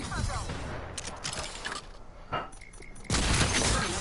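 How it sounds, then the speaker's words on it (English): Gunfire crackles through a battle royale video game match, with bursts of shots and booms mixed with mechanical clatter, loud and dense at times, while players talk over it. "They're shooting at us."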